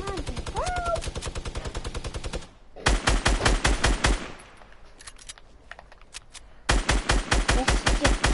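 Rapid automatic gunfire in a Fortnite match, loud sustained bursts of fast shots separated by brief pauses, with a short voice-like tone early on.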